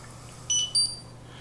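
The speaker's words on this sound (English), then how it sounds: "That's my 5-minute timer." A five-minute timer beeps twice in quick succession, short high-pitched electronic tones over a faint steady hum.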